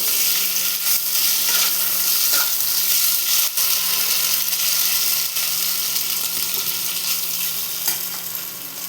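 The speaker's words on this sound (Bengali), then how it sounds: "এবার আমি এর মধ্যে সেদ্ধ করা আলুটা দিয়ে দিলাম" Boiled potato frying in oil with cumin seeds, a dense, even sizzle that stays loud and close with faint stirring, tapering slightly at the end, no talking.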